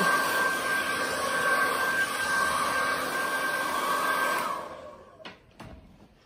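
A hair dryer blowing on hair runs loud and steady for about four and a half seconds, then cuts off, leaving quiet with a couple of faint clicks.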